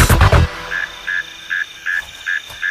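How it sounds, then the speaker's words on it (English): Mole cricket calling from its burrow in soil, a series of six short, evenly spaced trilling bursts, clear and fairly close, following a brief louder rustle at the start. "The mysterious MC at number 5 in the countdown is the Mole Cricket."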